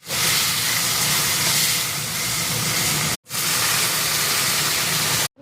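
Spices and bay leaf sizzling in hot oil, a loud, dense, continuous hiss close by that cuts out briefly twice.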